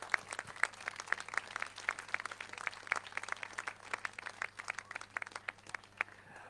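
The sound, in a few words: applause for third-place trail runner Rudy Gréau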